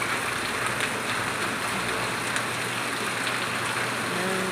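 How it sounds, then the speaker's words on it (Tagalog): Steady rain falls through the night into the early morning, a dense hiss of drops spread evenly across the whole stretch with a faint low rumble beneath and no voices. "magdamag lang siyang umulan ngayon."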